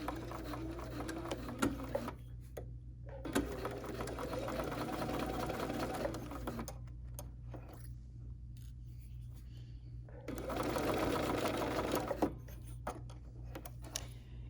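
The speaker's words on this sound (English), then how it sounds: "And now here, I'm taking my first few stitches." A Bernina sewing machine runs its first few stitches in bursts of rapid mechanical whirring, stopping and restarting several times, close and clear with no voices.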